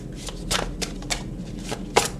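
Oracle cards being shuffled by hand, a run of soft papery riffles and slaps in irregular bursts, close and fairly quiet, with one sharper snap near the end and no talk.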